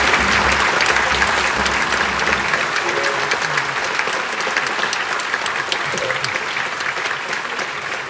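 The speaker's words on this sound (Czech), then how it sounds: "takže potlesk patří jí" A concert audience at a film and game music concert applauds loudly and steadily, a thick wash of many hands clapping that holds throughout at close range.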